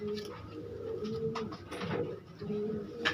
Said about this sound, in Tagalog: Kalapati ko, madami na akong kalapati.